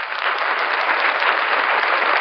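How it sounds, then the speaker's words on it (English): A loud, even wash of applause, the sound of a podcast studio audience, steady and close for just over two seconds, band-limited as though played back as an effect. "We got applause now."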